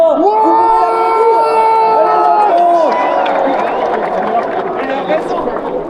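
Large crowd at the Tour de France team presentation, a dense roar of cheering and chatter throughout, with a sustained tonal wail early on, loud and close, no distinct applause claps standing out.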